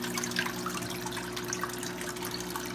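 Water drips and trickles steadily off a glass turtle ornament lifted out of a turtle tank, small close splashes scattered over a constant low hum, with no talking.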